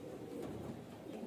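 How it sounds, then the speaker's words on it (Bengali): Male pigeons, three of them, give soft, continuous throaty cooing close by, a low, murmuring burble with no pauses and no talk. "এই 3টি নর পায়রা"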